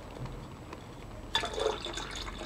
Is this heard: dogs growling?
no